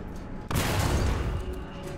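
A tank cannon fires at a T95 in War Thunder, a single sudden loud blast that cuts in abruptly and rolls into a heavy, sustained rumble.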